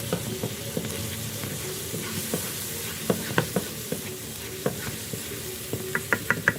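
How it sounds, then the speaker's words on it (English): Spices including turmeric and red chili powder are stirred in a hot frying pan, a steady sizzle under repeated scraping strokes of the spoon that grow sharper and more frequent toward the end. "a bit of turmeric, a bit of red chili powder. We'll give this a mix."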